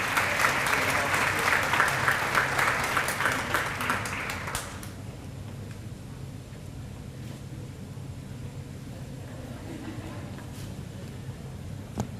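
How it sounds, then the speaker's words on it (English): Applause for a retiree at a retirement tea, a burst of clapping from a gathered audience lasting about four seconds before fading into quiet room noise and faint murmur. "Give him a round of applause."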